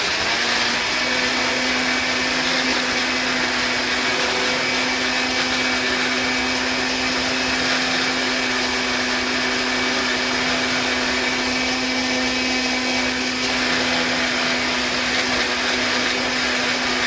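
A kitchen blender purees apples for apple bread, its steady high whine running continuously and evenly throughout with no voices.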